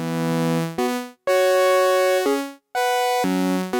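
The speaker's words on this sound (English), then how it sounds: "It has this very distinct fanfare kind of sounds." Bright, brassy synthesizer chords from a USTA sequencer patch built on a 3:2 ratio blare in short stacked bursts, a bold fanfare-like sequence with abrupt cuts between each loud block.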